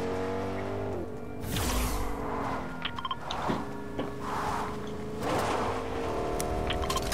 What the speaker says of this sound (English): hear a car.